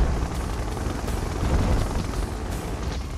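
In the game Red Alert 2: Yuri's Revenge, an aircraft unit flies with a steady, loud rotor-like whir and broadband engine rush that holds constant throughout, with no speech over it.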